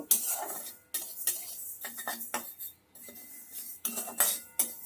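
Mung dal being stirred in a kadai with a spatula, close scraping and clinks of the utensil against the pan in irregular strokes, separated by short pauses.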